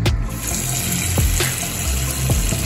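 Tap water runs steadily into a sink as Dominican longaniza sausage is rinsed, a close, continuous splashing stream broken by a few small knocks.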